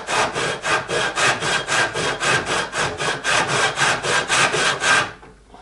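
A hand saw cutting through wood, loud and close, with about fifteen even back-and-forth rasping strokes in a steady rhythm before the sawing stops near the end.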